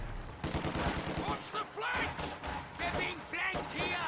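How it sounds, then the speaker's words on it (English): MG42 machine gun from Company of Heroes 2 firing steady rapid bursts, heard under a commentator talking throughout. "conscripts get pinned on the road by this MG42"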